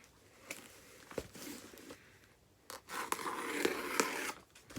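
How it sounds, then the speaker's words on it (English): An X-Acto knife slices open a well-packed mailed parcel holding a 1994 G.I. Joe Alley Viper figure, giving quiet scraping, scratchy cuts with short sharp ticks and a louder stretch of cutting near the end. "X-Acto knife. I'm cutting away from myself."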